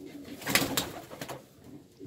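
Young pigeons in a nest in a breeding loft give soft, low cooing, a few faint murmuring coos with brief louder bursts near the middle, alone without talk.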